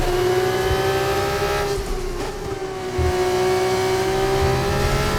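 Formula 2 car lapping Zandvoort in the F1 25 racing game, a steady high engine whine holding pitch with a brief dip and recovery, loud and continuous with no talk.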